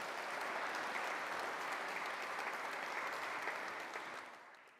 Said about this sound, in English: if we could give Steve another round of applause